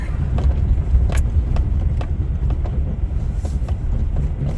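A vehicle rolls down a rough driveway in a steady, loud low rumble that lasts throughout, with scattered clunks and rattles from the bumpy surface; no one talks.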